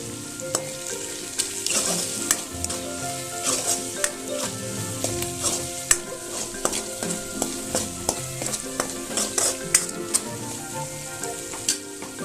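Masala with Kashmiri chili powder frying in a pan for foli fish, a steady close sizzle with frequent sharp scrapes and taps of a spatula stirring throughout.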